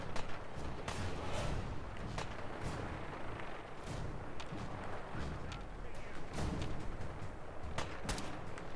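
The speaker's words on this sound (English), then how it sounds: "Oh, is someone else shooting me?" Gunfire in the Fallout 4 wasteland pops and booms in a rapid, irregular string of sharp shots over a rumbling background, fairly loud and continuous throughout, with no talk.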